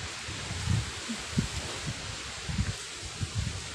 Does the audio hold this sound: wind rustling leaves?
yes